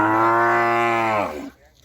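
A cow at a cattle market in Ban Khwao, Chaiyaphum, Thailand gives one long, loud, close moo that trails off into quieter background noise.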